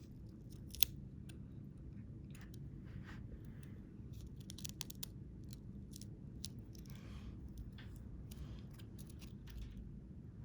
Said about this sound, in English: be very careful when you're cutting with scissors